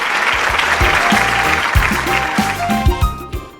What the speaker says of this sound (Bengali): প্রমিতার আঁকার জন্য একটু জোরে হাততালি হয়ে যাক